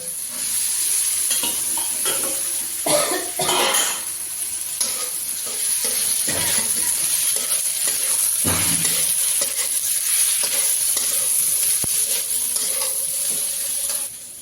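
Green chillies and potatoes fry in a pan with a loud, steady sizzle while a spatula stirs and scrapes through them in repeated strokes, close up and without talk.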